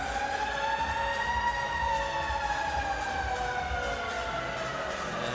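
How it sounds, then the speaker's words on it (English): Sirens wail at a Kings versus Canadiens hockey game in a Montreal arena, a steady rising and falling siren tone over crowd noise, moderately loud and continuous. "We got sirens going off."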